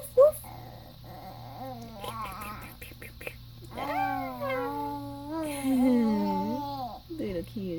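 Puppy in its first snow whimpering and growling in drawn-out whining cries, close and fairly loud, with a person talking around it.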